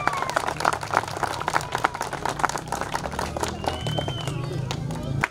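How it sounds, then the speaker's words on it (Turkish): Crowd clapping and cheering at the 2021 Aydın Buharkent hill climb race, with an Alfa Romeo 145 rally car nearby. Steady, dense applause runs throughout under a commentator's voice and crowd noise. "Alkışlar Serap Kotan ve Hüseyin Yıldırım için."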